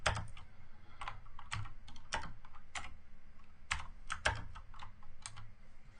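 Keys on a computer keyboard are pressed to type a shortcut, with a quick, close run of crisp clicks, some in pairs or small bursts, at a soft level and no voices.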